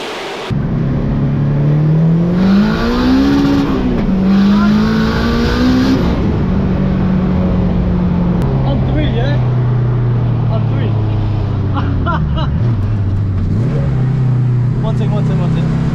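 Boosted Honda Civic, a £20,000 build, accelerating hard with a loud engine note rising through the gears, with gear-change dips and some talk over it.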